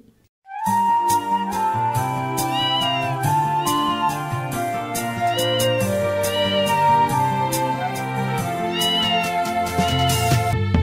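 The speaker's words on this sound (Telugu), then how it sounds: "మియావ్ మియావ్ పిల్లి నా పేరు" Cat-like meows are sung over a bright, bouncy melody in a Telugu nursery rhyme, repeated many times, loud and continuous.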